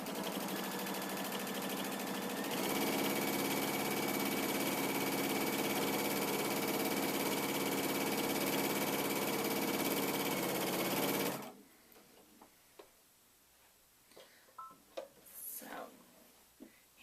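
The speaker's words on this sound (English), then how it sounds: "I always take a couple of stitches to knot the thread before I start moving." Destiny II sewing machine stitching free motion quilting, a loud, steady mechanical whir and rapid needle chatter running continuously for about eleven seconds, then cutting off to leave faint handling clicks and rustles.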